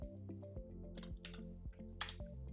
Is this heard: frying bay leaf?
no